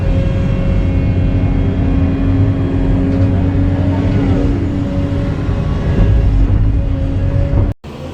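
Skid steer engine running steadily while moving sandy soil, a loud, close diesel drone with slight rises in revs, cutting off abruptly near the end.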